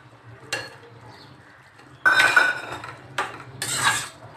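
Spoon clinking and scraping against a metal pot as cashews go into a simmering gravy for chavli bhaji, three short bursts of clatter separated by quiet pauses.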